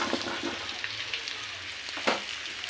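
Potatoes drop into a pan of browned, slightly burnt garlic and sizzle softly up close, with light scraping and stirring clicks over the steady frying hiss.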